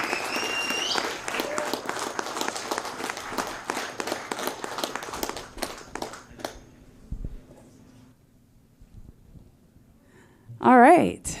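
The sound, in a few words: conference audience applause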